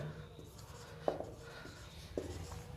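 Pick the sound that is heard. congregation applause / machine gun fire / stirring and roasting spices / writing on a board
writing on a board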